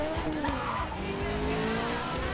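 Car engine revving with tires squealing in a skid in the video game Need for Speed: Most Wanted, a short, steady burst of whining motor and screeching rubber.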